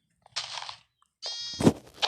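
Minecraft sheep bleat in two close, clear bursts, each a quavering nasal baa separated by a brief silence, loud and near, with a few soft thumps between them.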